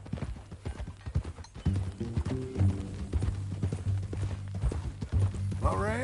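Horse hooves clip-clop at a steady walking rhythm in the Red Dead Redemption 2 video game, close and clear, with a low rumbling tone underneath and a brief whinny near the end.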